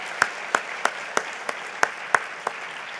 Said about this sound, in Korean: 우리 감사와 찬양과 영광의 박수를 올려드립시다